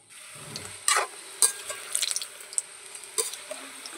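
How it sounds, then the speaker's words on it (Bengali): Palm fruit fritters (taler bara) frying in hot oil, a steady soft sizzle broken by several sharp spatters and pops, close and fairly quiet, with no talking. "কত সুন্দর ভাজা হচ্ছে।"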